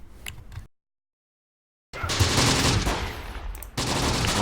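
Gunfire in the WWII strategy game Close Combat The Bloody First, a dense, loud stretch of rifle and machine-gun fire on an enemy rifle team, cut by a brief silence, then resuming as sustained crackling bursts.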